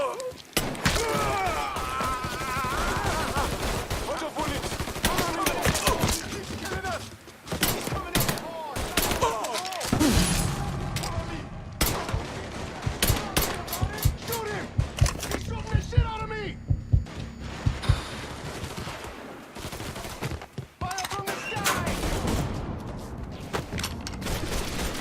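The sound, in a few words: gunfire in Mafia III (video game)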